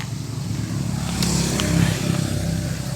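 Steady motorcycle engine droning close by, with a slight rise in revs midway, running continuously without talking.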